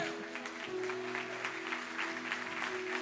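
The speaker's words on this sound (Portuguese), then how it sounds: "Aplaude a Jesus aí por isso." A church congregation claps for Jesus during a service, with steady, sustained applause and musical tones under it for a few seconds.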